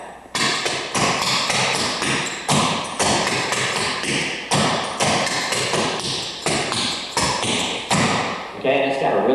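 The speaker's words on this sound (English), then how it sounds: "One more time, Texas Tap." Texas Tap clogging step on a hard floor, crisp rhythmic taps and stomps repeating in quick syncopated groups, loud and close, with no talking over them.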